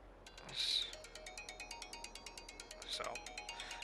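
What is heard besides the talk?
phone ringtone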